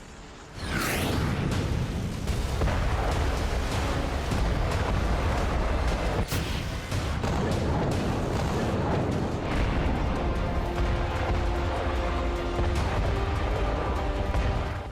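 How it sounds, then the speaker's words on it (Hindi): Heavy, dense battlefield noise as Ukrainian forces destroy Russian tanks and heavy weapons, with booming blasts and sharp cracks over a constant, loud rumble and no voices. "टैंक्स और तमाम भारी भरकम हथियारों को यूक्रेन ने इस तरह तबाह किया।"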